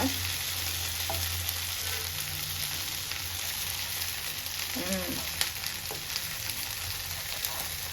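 Ivy gourd stir-frying in a pan, a steady close sizzle with occasional spatula scrapes and stirs, no talking.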